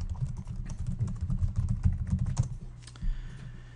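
Fast, steady typing on a computer keyboard while logging into a Google account, a dense run of close clicking keystrokes with a brief pause near the end and no voices.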